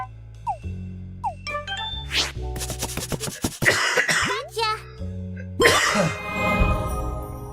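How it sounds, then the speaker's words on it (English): A person coughs and clears their throat a few times during a game session, with brief chimes and jingly game sounds around the coughs and some talking mixed in. "If that coughing is too loud, please do let me know."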